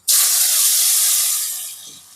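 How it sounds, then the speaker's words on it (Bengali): Potatoes coated in salt and turmeric hit a hot wok with a sudden loud burst of sizzling hiss that holds steady, then slowly fades over about two seconds. "তো বন্ধুরা, এখানে কড়াইটাও গরম আছে। তো এরপরে আলুগুলো এখানে দিয়ে দিই।"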